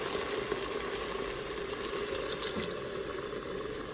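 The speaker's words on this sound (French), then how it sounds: "Ajouter 200 ml d'eau." Water pours steadily into a Cookeo multicooker pressure cooker in a home kitchen, a faint, continuous splashing stream running without a break and with no voices.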